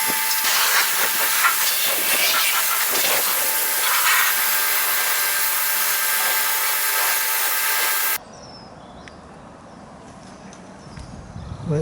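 Pressure washer spraying thick citrus snow foam off a car, a loud, steady broad hiss running continuously for several seconds before cutting off abruptly to quiet background.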